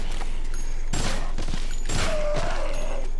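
Gunfire in the zombie video game Dead Rising, with two loud bursts of shots about a second apart, close and sharp, plus scattered thuds in between and no talking.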